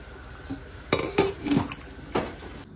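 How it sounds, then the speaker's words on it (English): Plantain pieces go into a pot of yam that has been boiling, giving several sharp clanks and knocks of utensil against the pot over a few seconds, close and fairly loud in a quiet kitchen. "I'm going to add it to the yam. The yam has been boiling a little,"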